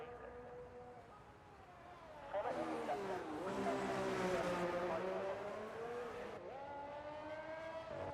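A race car in a racing video game accelerates through gears as it starts a flying lap, engine whine rising sharply after a quieter stretch and holding loud and near, with a voice talking over it.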